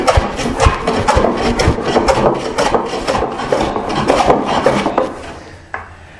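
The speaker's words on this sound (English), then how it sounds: "I'm going to start by planing across the grain to remove that wind." A hand plane is pushed across the grain of a wooden board in quick, rhythmic strokes, each a close, loud rasping shave, steady for about five seconds before it stops.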